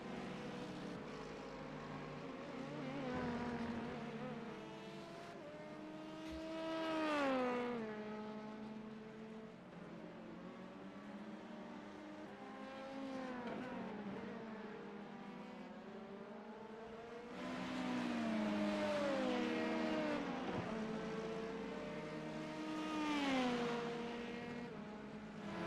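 Race car engines in a sim racing sportscar event at Road Atlanta, LMP2 and GT3 machines, droning continuously with rising and falling pitch sweeps as several cars accelerate and shift, swelling closer then fading, with no voices.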